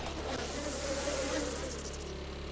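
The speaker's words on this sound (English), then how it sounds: "Bees everywhere." Swarming bees buzz steadily in the 7 Days to Die survival video game, a dense continuous drone that holds at even loudness from start to finish with no talk over it.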